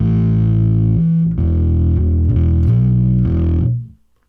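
Distorted bass guitar played through an Ampeg VTVR Pro amp simulation in AmpliTube SVX 2, a loud, thick, gritty run of sustained notes changing pitch several times before cutting off abruptly.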